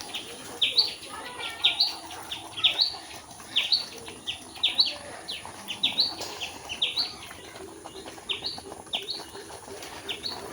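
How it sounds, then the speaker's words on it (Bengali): Small tailorbirds chirp from a tree branch in a village, giving short bright calls in repeated bursts over about ten seconds, clear and fairly close against a quiet rainy background. "গাছের ডালটাতে ছোট ছোট টুনটুনি পাখি এসে ডাকতেছে কিচির মিচির শব্দ"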